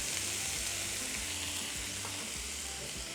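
Ground beef, 85/15, browning in a pan with black pepper, onion powder and garlic powder, giving a steady close sizzle and crackle with occasional soft scrapes of stirring, no voices.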